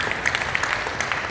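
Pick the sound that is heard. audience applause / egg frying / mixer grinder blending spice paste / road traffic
audience applause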